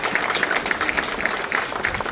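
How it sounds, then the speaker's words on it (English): An audience applauds the mayor at a civic event on housing in Pawtucket, a steady, fairly dense round of clapping with distinct sharp claps popping through, continuous for a couple of seconds. "He deserves a round of applause for that"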